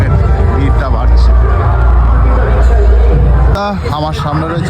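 A crowd murmurs on church grounds in Bongaon at night, a continuous babble of many voices close around, with a few nearer voices rising briefly out of the mix near the end.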